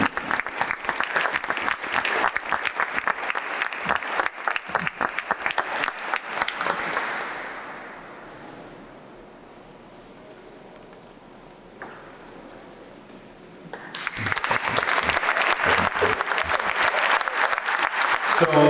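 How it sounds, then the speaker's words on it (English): Audience applause at a mayor's innovation award ceremony in Cleveland, with dense clapping for about seven seconds, then fading to a quiet hall for several seconds before a second loud burst of applause picks up and continues to the end. "So let's give all our amazing winners another big round of applause."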